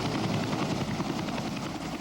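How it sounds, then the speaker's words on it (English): Medevac helicopters with spotlights hover over a 1991 Desert Storm blast scene, their rotors a steady, dense thudding drone that fills the clip. "At least 4 medevac helicopters with spotlights added to the sea of light and sound."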